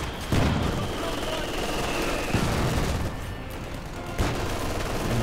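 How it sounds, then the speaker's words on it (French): An American Cal-50 machine gun fires in a Market Garden war game match, sustained rattling gunfire with a few heavier booming impacts, while commentators talk over it. "La Cal-50 qui est quand même une mitrailleuse exceptionnelle"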